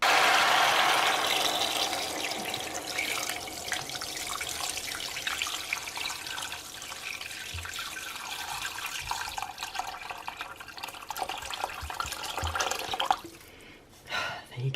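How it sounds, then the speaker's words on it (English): Water pours into a cooking pot over browned chicken and carrots, a steady splashing gush that slowly eases off toward the end, with a voice speaking over it. "then pour over water to cover"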